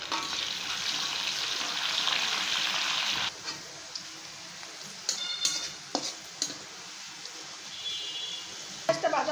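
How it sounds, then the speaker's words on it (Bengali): Onion hits hot oil in a wok with a loud, steady hiss for about three seconds, then settles into a quieter sizzle broken by clicking spatula stirs; a voice talks faintly underneath. "তেলটা গরম হয়ে গেছে, এখন পেঁয়াজটা দিয়ে দিলাম।"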